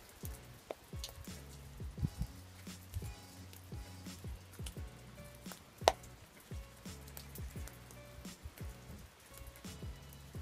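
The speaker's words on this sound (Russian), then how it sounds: "Тут попадает на него дождь." Rain falls in an outdoor aviary housing a two-month-old raven, with soft irregular pattering drops and wet splatters close by throughout, a few louder taps standing out, and no talking.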